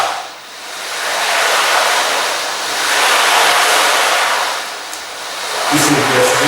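An ocean drum imitating water waves, a steady loud hiss of rolling beads that swells and ebbs in slow surges like surf, with a low knock near the end.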